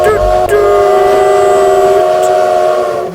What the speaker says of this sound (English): toot!" went the train whistle loudly